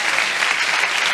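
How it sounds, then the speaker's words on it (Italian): A studio audience claps in a brief, dense burst of steady applause on an Italian television variety show. "e bello applauso a tutti e quattro"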